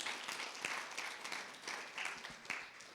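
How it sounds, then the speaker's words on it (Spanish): Members of a church congregation clap together as an offering to the Lord during a Wednesday service, a sustained round of mixed handclaps with some sharper individual claps, moderately distant. "Vamos a dar una ofrenda de palmas al Señor"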